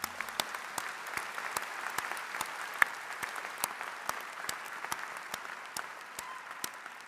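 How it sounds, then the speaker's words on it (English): A graduation audience at the University of Michigan's Rackham graduate exercises applauds, with sharp individual claps standing out over a sustained, moderately loud roar of clapping throughout. "you deserve one more resounding round of applause"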